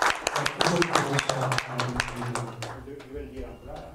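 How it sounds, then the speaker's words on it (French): Audience applause at a press conference, a dense patter of claps strongest in the first couple of seconds and fading toward the end, with voices talking over it throughout. "Applaudissements."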